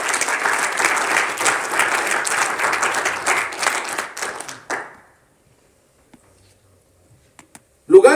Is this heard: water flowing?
no